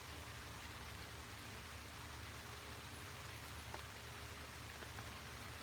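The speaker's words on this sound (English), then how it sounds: "so far I'm not getting hit by a lot of rain" Steady rain falls outdoors, a soft, even hiss of drops on surfaces that holds at a constant low level for several seconds with no voices.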